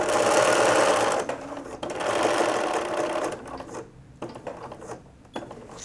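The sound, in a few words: sewing machine stitching around a pillow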